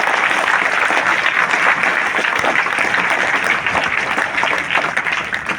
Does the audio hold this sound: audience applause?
yes